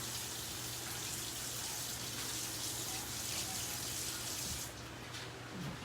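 Something is rinsed under a running tap, a continuous close splash of water that softens slightly near the end, with no talking.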